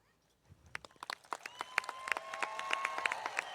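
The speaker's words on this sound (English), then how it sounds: "I invite you now to cheer for our hardworking students" Graduation crowd at Baker High School applauding and cheering: clapping rises from quiet into dense, sustained applause, with a few high whoops carrying over it.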